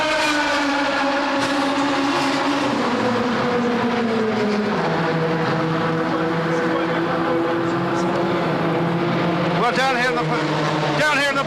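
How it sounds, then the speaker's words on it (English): The Panos team's high-revving race car engine at the 2001 Le Mans 24 Hours gives a loud, sustained whine whose pitch slides downward, then sharp revs rise near the end. "high revving motor built by the Panos team"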